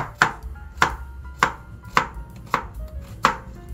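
A knife chops onion on a cutting board in a home kitchen while pork gochujang stew is being prepared, six sharp, evenly spaced strikes about half a second to a second apart, close and clear with no talking.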